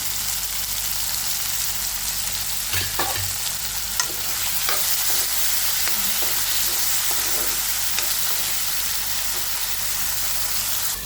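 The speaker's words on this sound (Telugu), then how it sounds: "దొండకాయ అనేది ఫ్రై అవుతాయి ఒకసారి కలుపుకుందాం" Ivy gourd (dondakaya) pieces fry in a pan, a loud constant sizzle broken by repeated spatula scrapes and clicks as they are stirred, with no talking.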